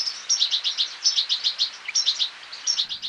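Small birds sing in an olive grove at Castillo de Canena near Úbeda, Jaén: bright, close chirping phrases repeat in quick rhythmic bursts against a quiet background.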